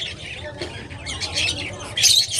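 Caged lovebirds, cockatiels and budgies in a pet shop chirp and squawk together in a busy, bright chatter that grows louder toward the end.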